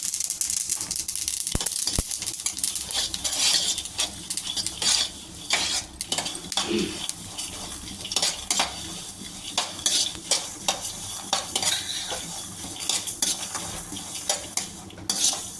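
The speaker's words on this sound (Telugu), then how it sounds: "దూర వేపుతానండి పల్లీలు. దాంట్లోనే నువ్వులు వేసుకుందాం." Peanuts and sesame seeds scrape and rattle against a hot pan as they are dry-roasted and stirred, with a steady faint sizzle and irregular clinks of a utensil throughout.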